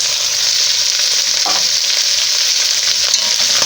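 Ginger and tomatoes frying in a sufuria for Kenyan chicken stew, a steady close hiss of sizzling with soft stirring scrapes.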